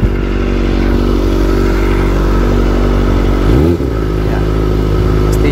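Kawasaki ZX-25R motorcycle fitted with an Over Racing exhaust, ridden close by with a loud, steady engine drone that dips and rises briefly as it shifts before settling again.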